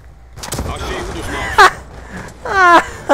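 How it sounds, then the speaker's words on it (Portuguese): Call of Duty Black Ops 2 combat: sharp gunfire bursts and a grenade explosion, with a player's excited voice over the game sounds, loud and close. "Granada!"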